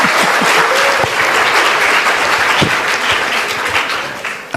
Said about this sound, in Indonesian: Aplaus dong, aplaus.